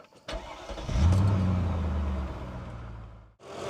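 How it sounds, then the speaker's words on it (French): A V8 car engine, rated 300 hp, starts after an oil and filter change, cranking briefly before settling into a steady, fairly quiet idle that holds for a few seconds. "Il faut que je fasse tourner le moteur pour remplir le filtre à huile et refaire les niveaux."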